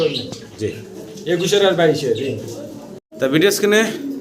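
Red Danish pigeons cooing nearby in soft, throaty bursts, mixed with someone talking over them.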